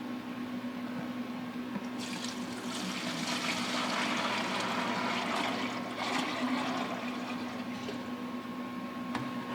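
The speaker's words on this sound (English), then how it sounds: "transferring it into a clean mixing container" Mixed two-part Brickform Poly-Astic sealer is poured into a clean mixing container, giving a steady, close liquid rush that runs for about ten seconds over a low constant hum.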